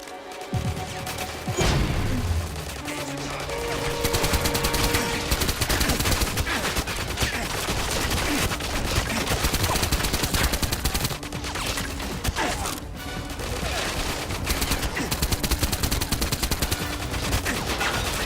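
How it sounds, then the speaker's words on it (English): A firefight in the GoldenEye 007 Reloaded video game, with dense, loud bursts of automatic gunfire and rapid shots filling the whole stretch, and occasional heavier impacts, with no talking. "If the player is seen or chooses a non-silenced weapon, then the chances are they will get into an all-out firefight with the enemy."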